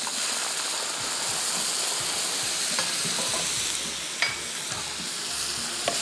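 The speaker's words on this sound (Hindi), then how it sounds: "अब इसके अंदर हमने डालना है चिकन स्टॉक।" Chicken stock added to a roux in a pan for fettuccine Alfredo gives a soft, continuous sizzle, with faint scattered clicks and stirring scrapes throughout.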